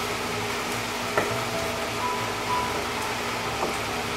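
Garlic goat cheese alfredo sauce with basil being stirred in a pan over the heat, a steady soft sizzle with faint scraping clicks of the utensil, no talking.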